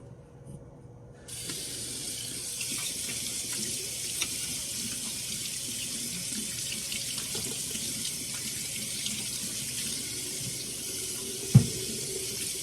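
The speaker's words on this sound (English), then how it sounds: "Okay, let's wash our hands." A kitchen tap runs steadily for hand washing, a constant close hiss of water splashing into a sink after a brief quiet start, with a small clunk near the end.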